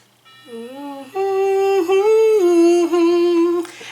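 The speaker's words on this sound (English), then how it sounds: "You can hear my clock going off." A sustained electronic melody of pitched tones rises and holds, like an alarm clock or chime playing, fairly loud and clear with no talking.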